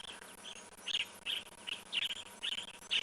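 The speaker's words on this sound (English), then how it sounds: "I am looking for this yellow-throated apelus that's calling." A yellow-throated apalis calls in the African bush, a rhythmic series of high, rapid chirped phrases repeating about twice a second over a faint insect hum.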